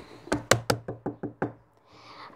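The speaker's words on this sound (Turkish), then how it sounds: "Ah kapı çaldı bile." About seven sharp knocks land on a door in a quick, uneven burst, moderately close, followed by a faint rustle and no speech.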